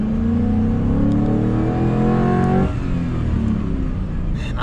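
A deep V8 engine in a Chevrolet Trailblazer rumbles steadily as it drives, its pitch climbing under acceleration, then easing after a gear change, loud and close throughout.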